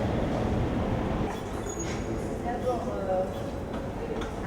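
A Marseille metro train pulls into a station with a loud, steady rumble of wheels and faint squeals, close by and alone, easing slightly toward the end.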